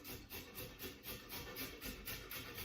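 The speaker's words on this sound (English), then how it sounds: "So I just go ahead and grate my carrots." Carrots being grated by hand for a smoothie: a steady, rhythmic rasping scrape repeating several times a second, close and fairly quiet, with no voices.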